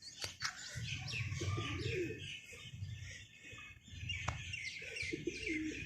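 A flock of domestic pigeons coos steadily and flaps about close by, with chirps and soft calls overlapping throughout and a few sharp wing claps.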